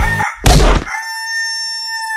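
A rooster crows loudly and close by, a sustained drawn-out call with a harsh burst at the start, heard alone.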